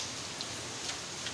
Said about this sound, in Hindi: बारिश हो गया, कहाँ हो रही बारिश